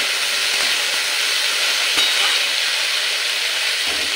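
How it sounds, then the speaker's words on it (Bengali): Figs and potatoes fry in a pan with ginger and green chilli paste, giving a steady, close, continuous sizzling hiss throughout with no talking. "তাহলে ডুমুর আর আলুর সাথে আদাটাও ভাজা ভাজা হয়ে যাবে, লঙ্কা আদা বাটাটা"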